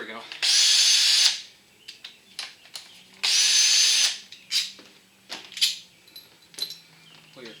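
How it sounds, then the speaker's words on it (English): A power drill whirs in two short bursts, with clanks, taps and handling noises between and after. "Requires more torque than this drill can provide"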